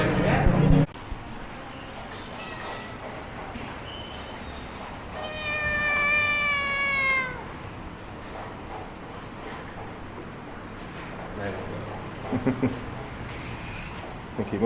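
A cat on a street in Kuala Lumpur, Malaysia, gives one drawn-out, wavering meow at close range, amid ambient outdoor noise with a few knocks and bumps.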